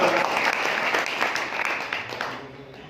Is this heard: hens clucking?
no